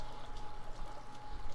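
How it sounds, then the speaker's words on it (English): Water falling in The Forest video game, a steady, soft rushing pour heard faintly and continuously with no talk over it. "You can hear like some water falling from behind there."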